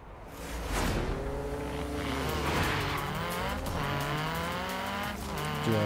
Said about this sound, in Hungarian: Ilyen rally autó hangja.